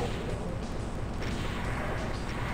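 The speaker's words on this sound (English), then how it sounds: "activate that crusher." A crusher activates in the Doom II Valiant map Crush Depth, giving a loud, continuous heavy rumble with booming, crashing texture that carries through the whole stretch with no talk.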